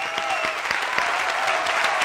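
A lone person in a late-night sports talk studio claps steadily in a quick, even rhythm, the claps fairly soft against a low background hum.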